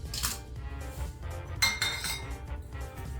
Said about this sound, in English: First, add in some ginger slices into your shaker.